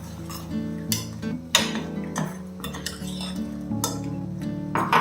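A spoon stirs papaya curry gravy in a metal pot, making repeated close clinks and scrapes against the sides in an irregular rhythm, with faint tonal ringing from the pot underneath.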